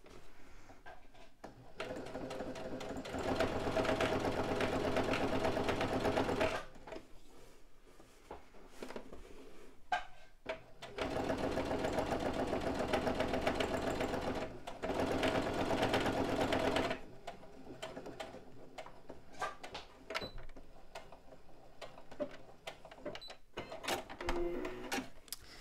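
A sewing machine topstitches a tote bag in two long, loud, steady runs of rapid needle chatter, separated by quieter pauses with small handling clicks and faint rustling.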